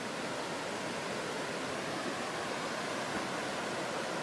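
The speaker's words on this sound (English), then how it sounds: "it's right next to the Hoh River, which is lovely. It's like a little noise machine for us when we sleep tonight" The Hoh River rushes past a campsite in a constant, faint, broadband hiss of flowing water, steady and unbroken with no voices.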